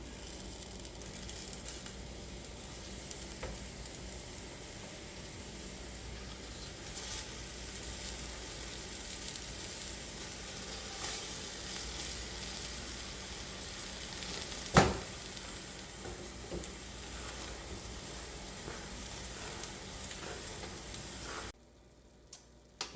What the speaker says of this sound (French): on va prendre les oignons, et on va les cuire gentiment